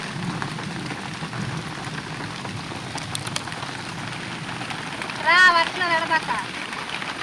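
Rain falls on trees in a garden at night, a steady soft patter and hiss throughout, with a person speaking briefly near the end.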